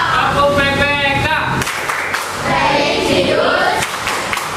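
A class of students chants together in a rhythmic group clapping routine, sharp hand claps mixed with loud unison voices, close and dense throughout.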